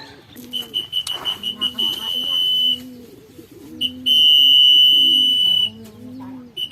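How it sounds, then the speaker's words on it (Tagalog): A pigeon coos in repeated low phrases, while a thin, high electronic beeping tone sounds on and off in the background. "Hala, ibon lang pala yun eh."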